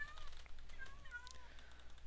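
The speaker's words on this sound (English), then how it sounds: "Sorry if you're a cat lover, but their mewing is annoying me." Ocelots meowing in a modded Minecraft jungle, several short high meows repeating over a steady low background hum, fairly faint.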